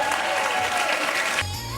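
Audience applause at an outdoor community celebration of America's 250th birthday, a dense wash of clapping that fills most of the short clip before dropping off sharply near the end.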